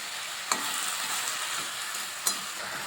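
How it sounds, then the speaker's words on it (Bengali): Mixed leafy greens with teloкucho leaves, salt and turmeric fry in oil in a pan while being stirred. A steady close sizzle carries through, broken by two sharp scrapes of the spatula, with no talk. "দিয়ে আমি এখন একটু নেড়ে চেড়ে দেখে দেবো, এটা শাকটা সবজিটা একটু সিদ্ধ হতে দেবো।"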